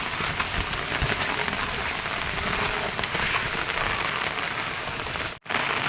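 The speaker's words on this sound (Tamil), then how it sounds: "ஒரே தண்ணி, மழை, பயங்கரமான மழை பெய்யுதா" Heavy rain pours steadily during Cyclone Fengal in Pondicherry, a dense, continuous hiss of drops on surfaces that holds loud and even throughout, with one brief dropout near the end.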